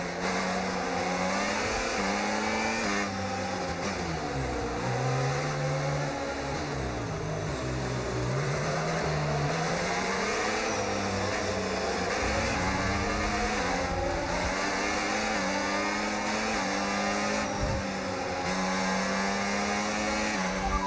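Formula 1 racing car engines in F1 Braking Point at the Dutch Grand Prix whine steadily, pitch rising and falling through gear changes, a sustained loud drone with no talking.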